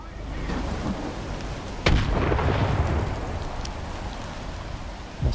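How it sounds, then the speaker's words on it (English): Thunder rolls through a rainy storm in the video game Stalker 2, a sustained low rumble with rain hiss and a sharper crack near the two-second mark, loud and continuous with no talking. "Must be a storm."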